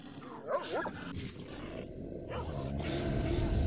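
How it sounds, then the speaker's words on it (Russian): Dog from the S.T.A.L.K.E.R. Shadow of Chernobyl video game, a short bark or growl near the start over a continuous roaring, rumbling game ambience that stays loud throughout. "Собака где-то здесь рядом."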